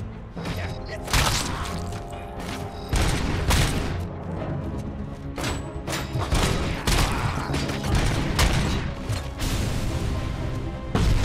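Grenade blasts and heavy gunfire in the combat video game RoboCop: Rogue City, with repeated loud booming bursts and crashes over dense battle noise.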